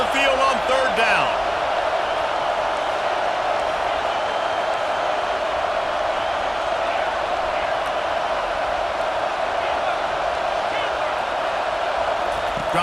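Home crowd roaring on 3rd down in EA Sports College Football 25, a broad sustained stadium din close and loud across the whole stretch, with a brief thud and a few faint calls near the start.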